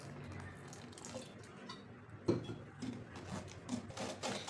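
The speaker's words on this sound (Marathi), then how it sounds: "त्यामध्ये अजून वरून पाणी घालायचं थोडं।" Water pours and trickles faintly into a ground soybean mixture being made into soy paneer, a quiet splashing stream with a few louder gurgles.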